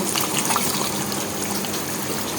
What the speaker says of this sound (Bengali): তো আমি এখন এই যে 1 কাপ গুঁড়া দুধ গুলায় রেখেছিলাম সেটা দিয়ে দিব।